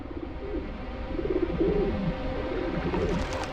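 Pigeons cooing in a city centre, soft repeated throaty coos close by over a low steady background hum.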